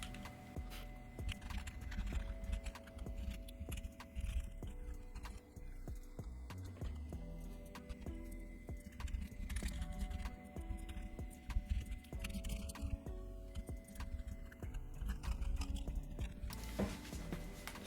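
Typing on a computer keyboard while writing Python code for a Discord bot, a steady run of close key clicks over a constant low background hum, no talk.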